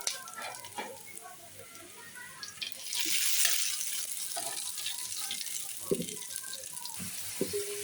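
Onion frying in a pan while cooking loitta shutki: a steady soft sizzle, swelling louder partway through, with scattered clinks and stirring taps; a voice speaks intermittently over it.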